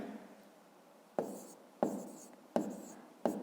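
A pen scratches across a notebook page while math answers are written, producing four short, crisp strokes at steady intervals, close and fairly quiet with no talking.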